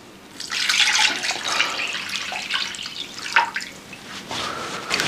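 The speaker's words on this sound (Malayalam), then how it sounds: "എന്നിട്ട് നമുക്ക് വെള്ളം ഒഴിക്കാം. ഇതിലോട്ട് 4 ഗ്ലാസ് വെള്ളം കേട്ടോ." Water poured from a glass into a pakora spice mix for Punjabi-style kadhi pakora, heard up close as a splashing, gurgling stream that rises and falls in several pours.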